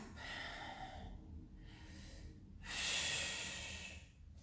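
Breathing during push-ups is heard as several close, quiet breaths and forceful exhales, each a soft hissing puff separated by short pauses, with no talk over them.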